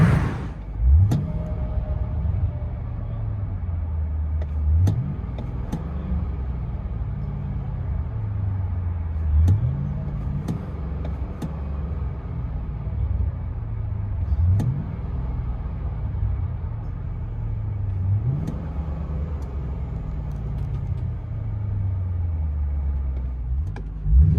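A deep exhaust rumble from a Ford Thunderbird 3.9L V8, heard from inside the car, swelling and easing in repeated cycles as the engine revs up and settles, steady and close.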